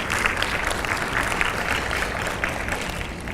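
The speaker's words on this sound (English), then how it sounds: "Can we please get a round of applause for Sister Aisha?" An audience at a community talk applauds Sister Aisha, a dense, continuous wash of many hands clapping with a faint crowd murmur beneath, steady and fairly loud from start to finish.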